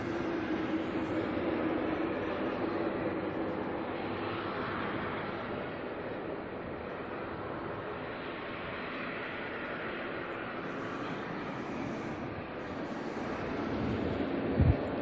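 An Air New Zealand Dash 8 turboprop taxiing out at Auckland Airport, a faint, steady broadband roar heard from a distance with gusty wind, no voices.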